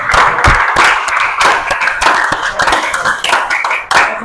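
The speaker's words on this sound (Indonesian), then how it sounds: "Tepuk tangan dulu buat kalian semua." Classroom students clap together after a timed task, a loud close patter of uneven hand claps with a few sharper individual strikes, continuous for several seconds.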